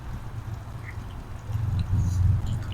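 Ducks quack at a duck pond, a cluster of low nasal calls growing louder toward the end over quiet outdoor background.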